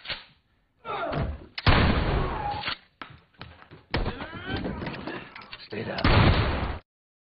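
Someone narrates an action film plot while sharp gunshots and heavy thuds punch through at intervals, the loudest bursts landing near the middle and end.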